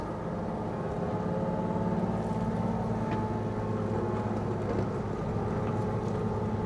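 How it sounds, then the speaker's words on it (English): A farm excavator with a grab thumb moves small pieces of scrap around, its engine drone steady and continuous at mid distance, with faint clanks of metal now and then and no talking. "Looks like he decided to hop on the excavator to move some of this smaller stuff around"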